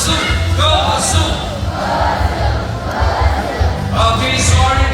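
Children at a bird show shout and cheer in bursts, a loud crowd of young voices chanting together with brief pauses between rounds and an adult voice leading them.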